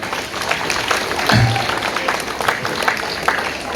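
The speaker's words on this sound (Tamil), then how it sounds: "கை தட்டுங்கப்பா எல்லாம்." An audience at a Tamil speaking event claps together, giving a dense, steady spatter of applause for a few seconds, with a brief low thump partway through.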